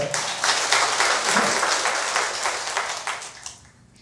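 An audience at a Buddhist temple ceremony for an abbot's 60th-anniversary dharma service claps for a speaker, a thick burst of indoor applause that holds steady and then fades out near the end.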